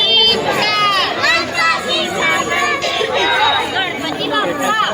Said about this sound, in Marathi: तुम्ही बघतायत ना किती गर्दी आहे इकडे.